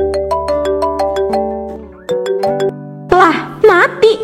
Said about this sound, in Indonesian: Aduh, siapa sih yang telepon?